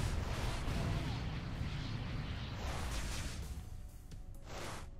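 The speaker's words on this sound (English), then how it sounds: "Start using missiles." Missile launches in the space combat video game Everspace, a dense, sustained roar of rocket fire and explosions that stays loud throughout, swelling and thinning in waves without any talking.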